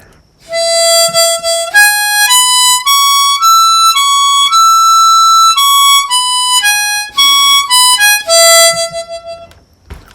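A harmonica plays a phrase of the old time tune Going up to Hamburg, with clear single blown and drawn notes stepping up and back down in a lively rhythm, loud and close.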